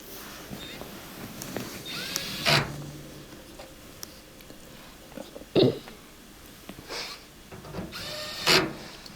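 A power screwdriver drives Phillips head screws into a Samsung dryer cabinet in several short bursts, sped up so each whir is clipped, with light clatter and background hiss between the bursts.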